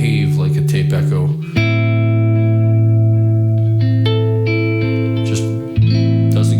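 Galaxy tape echo effect pedal running in stereo on a sustained, distorted guitar chord, with repeating echo tails and a reverberant wash; the chord changes near the start and again near the end, and the signal stays loud throughout.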